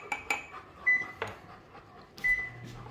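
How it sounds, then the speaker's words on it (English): A kitchen microwave oven is set for one minute ten seconds, with a string of short keypad beeps and clicks at close range, then a longer start tone and low hum, with no talking. "Collin, do you know how to start the microwave for 1 minute, 10 seconds?"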